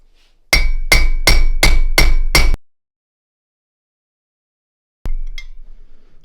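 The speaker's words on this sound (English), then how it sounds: "we can start using the tool to start hammering that out" Hammer blows drive the front hub bearing race out of a 1966 Lincoln Continental hub with a tool: six loud, evenly spaced metallic strikes, a silent pause, then one more ringing hit.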